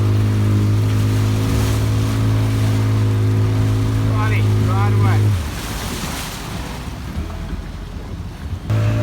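A boat's engine drones loudly against rushing wind and churning waves in rough seas, then cuts away midway, leaving choppy water and wind; a voice briefly speaks.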